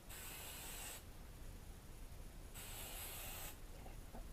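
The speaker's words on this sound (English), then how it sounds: "Lots of hairspray." Hairspray from an aerosol can misted onto hair in two long hissing bursts, each about a second long, close and steady, with quiet gaps between.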